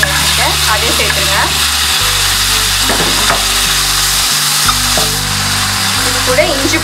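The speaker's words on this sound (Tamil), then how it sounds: "வெங்காயம் தக்காளி இஞ்சி பூண்டு பேஸ்ட்லாம் நல்லா வதங்கிடுச்சு" Onion, tomato and ginger garlic paste sauté in a pan for vermicelli biryani, giving a steady close sizzle with occasional stirring scrapes over a low continuous hum.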